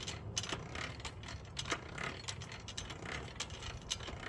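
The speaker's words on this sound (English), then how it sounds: "It uses a large pulley which drives a leather belt that's attached to a smaller pulley on the blower motor." 1880s bottom-blast forge blower turning by hand, its large pulley driving a leather belt to a smaller blower pulley, giving faint close rhythmic clicking and whirring with gear-like ratcheting.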